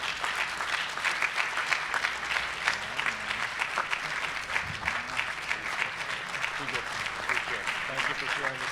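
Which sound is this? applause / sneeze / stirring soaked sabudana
applause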